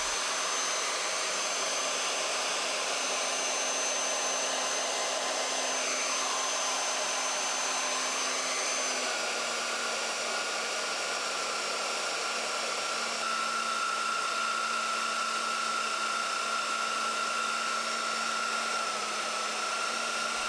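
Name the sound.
HolzMann MBM magnetic drill annular cutter cutting thick steel collar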